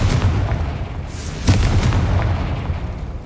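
A Confringo fire spell goes off in the game Hogwarts Legacy, a dense rumble of blasts with one sharp boom near the middle over continuous noisy battle sound.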